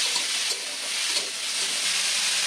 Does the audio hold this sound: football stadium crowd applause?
no